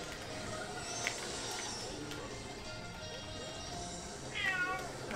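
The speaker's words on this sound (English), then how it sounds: "That's my cat, he's so loud." A cat lets out a single loud meow near the end, following several seconds of quiet, steady background noise.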